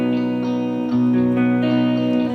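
An electric guitar backing track plays a chord progression in E for a song, with sustained, effect-laden chords and one clear chord change early on, loud and without voices.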